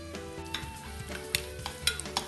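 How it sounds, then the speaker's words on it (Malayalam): Coconut pieces stir-fried in hot ghee while making kalathappam, a soft steady sizzle with scraping stirs and a few light clinks of a spoon against the pan, close by and with no talk. "ഈ തേങ്ങാക്കൊത്ത് നെയ്യിലേക്കിട്ട് വറുത്തെടുക്കാം"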